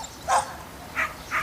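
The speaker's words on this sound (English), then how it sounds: "The other 2 dogs started barking a little bit and whimpering" Dogs give three short, separate sounds near a remote cabin: a yelping bark followed by two higher whimpering yips, each brief and moderately loud over a low background hum.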